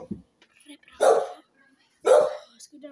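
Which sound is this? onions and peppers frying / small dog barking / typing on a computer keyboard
small dog barking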